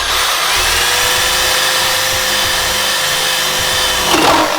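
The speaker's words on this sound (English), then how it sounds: "he's just gonna cut a hole on top as well" A power tool drones at steady high speed while cutting a hole in the top of the bed of a 2018 Ford F150 Lariat, loud and continuous, with a brief rise in pitch near the end.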